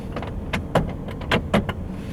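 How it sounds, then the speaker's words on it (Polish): Short bursts of a 2015 Mercedes C-Class C220d power window motor whirring and clicking as it closes, several quick pulses close by over a low diesel engine hum. "Zamykamy szybę."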